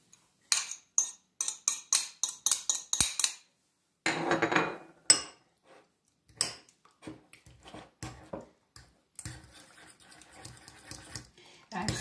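Processed cheese and two garlic cloves are stirred together in a bowl. Quick bursts of scraping, clattering strokes are broken by short pauses, then a looser, continuous scraping follows, all close by.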